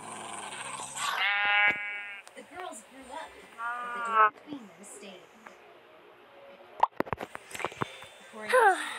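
Several wavering sheep bleats rise and fall with pauses in between, mixed with other animal noises and some sharp clicks, fairly close.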